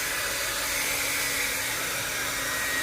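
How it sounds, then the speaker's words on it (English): A hair dryer set on hot blows a steady, close, continuous airflow while tire stickers are applied to a Dodge Challenger Hellcat's tire, with no talk over it. "Make sure you blow dry."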